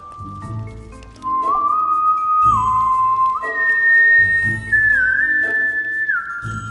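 A character in the video game My Time at Sandrock whistles an old tune, loud and close, with clear sustained notes stepping up and down in pitch over soft background music.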